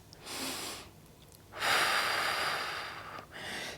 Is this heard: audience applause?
no